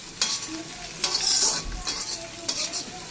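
Egg fried rice stirred in a hot pan, with a steady sizzle and repeated scraping strokes of a utensil roughly every second, close and fairly loud, with no voices.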